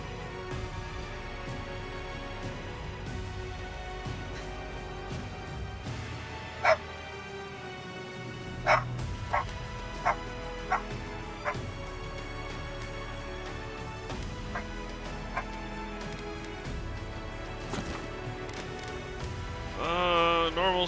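A pet dog barks in short, sharp yips several times, close by, interrupting a steady background of video game music and ambience.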